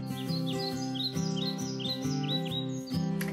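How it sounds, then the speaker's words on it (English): Sparrows and blackbirds chirp outside in rapid, overlapping tweets and rising calls over a steady tonal background hum, continuous and clear. "listening to the sparrows and the blackbirds annoying each other out there"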